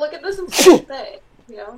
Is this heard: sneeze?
yes